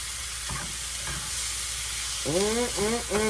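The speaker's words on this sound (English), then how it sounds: "And our onions and peppers and olive oil, right? And we just want to cook this just till it gets opaque looking." Onions and peppers sautéing in olive oil in a pan, a steady close hiss and sizzle, with a voice briefly rising over it near the end.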